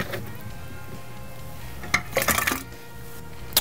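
Cut fruit, likely peach and orange pieces, clinks and clatters into a glass pitcher of cinnamon sangria in a kitchen, with a few brief, sharp knocks in the second half over a quiet background.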